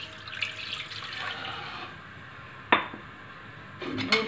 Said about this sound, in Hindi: अब इसमें मैं डालूंगी 1 कप दूध।